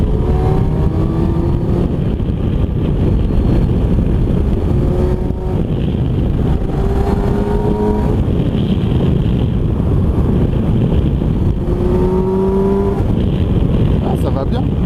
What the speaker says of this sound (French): elle fait un beau bruit avec un pot d'origine comme ça